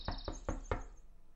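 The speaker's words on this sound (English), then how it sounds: "I'd better knock first." Four even, hollow knocks on a door in the game Everlasting Summer, evenly spaced and close, then silence.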